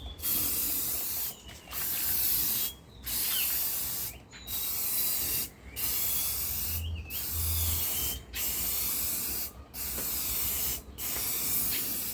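Rattle can spraying clear coat onto a vehicle headlight in a steady rhythm of about eight close, loud hissing passes, each roughly a second long with brief pauses between them.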